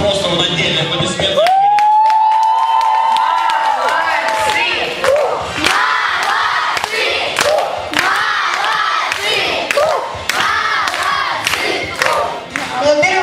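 At a children's summer camp awards show, a crowd of kids erupts in loud cheering and shrieks for a dancer, a long rising whoop leading into dense clapping and shouting that continues throughout.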